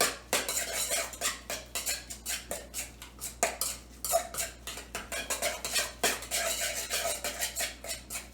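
Wonton filling dressed with sesame oil is mixed briskly in a bowl, a steady run of rapid clicking and scraping strokes from a utensil against the dish, close and continuous without any voice.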